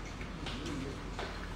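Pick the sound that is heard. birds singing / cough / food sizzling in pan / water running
birds singing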